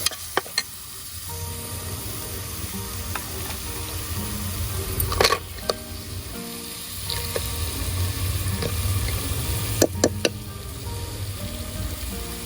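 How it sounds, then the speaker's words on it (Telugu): Blue crabs go into hot oil in a pan and fry in a steady, close, broadband sizzle, with occasional sharp clacks of shells and utensils against the pan, and no talk. "అయితే ఇప్పుడు మనం క్రాప్స్ వేసుకుందాం"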